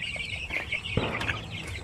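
A Shamo Aseel chicken clucks in a short series of close, soft calls with no one talking.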